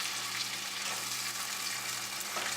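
Spinach and tomato sauté in a pan, giving a steady, close hiss of frying that holds evenly throughout with no breaks.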